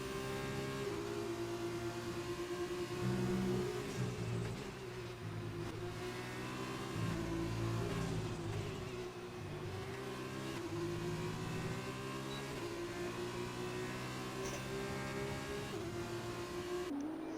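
F2 race car engines in an Xbox racing game at the Austrian GP, loud and continuous, with the pitch climbing and dropping through gear changes as cars accelerate and brake through corners, and no voices.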